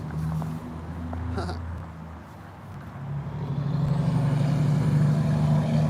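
Semi trucks and cars pulling up at a roadside, with a steady close engine rumble that swells toward the end and a brief hiss that fits an air brake release.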